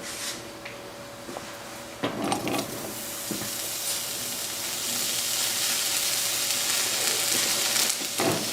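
Zucchini sautes in olive oil on a stovetop, a steady sizzle that swells and grows louder, punctuated by a few clattering stirs and pan scrapes near the start and end.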